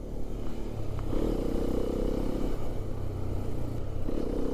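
A Hero Xpulse 210 motorcycle riding through traffic: a continuous engine drone with shifting pitch as the throttle rises and eases, steady and close, with road noise underneath and no talking.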